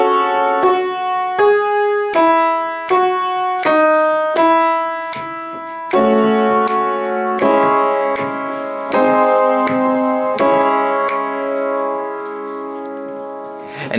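Right-hand piano part of a song's verse, clear struck notes in an even repeating rhythm, played alone and close with no talking.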